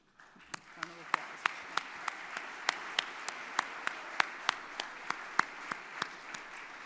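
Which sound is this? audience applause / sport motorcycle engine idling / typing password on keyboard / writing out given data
audience applause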